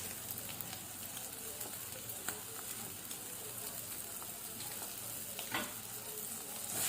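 Bitter gourd filling being stirred in a hot pan, a soft steady sizzle with faint scraping strokes, quiet and continuous with no talking.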